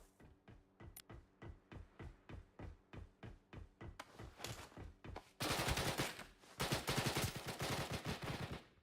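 Video game gunfire starts as evenly spaced single shots, then swells into louder, denser bursts of automatic fire near the end. No voices.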